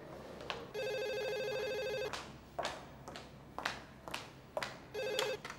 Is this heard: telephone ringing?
yes